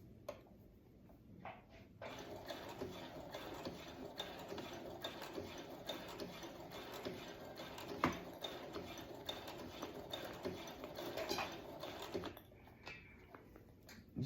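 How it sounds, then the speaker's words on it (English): A sewing machine runs in a rapid, steady mechanical rattle for several seconds, starting and stopping with a few clicks around it, close by. "just kind of listen to your sewing machine"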